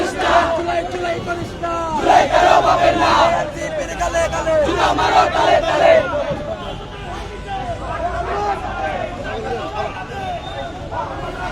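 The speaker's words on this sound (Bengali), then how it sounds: "এখানে এসে তারা কিন্তু তাদের যে স্লোগান সেই দেওয়ার চেষ্টা করছেন" Protest march crowd of student activists chanting slogans at night near a gate in Chittagong, Bangladesh: a loud, dense mass of voices shouting rhythmic calls in waves, with constant crowd babble underneath.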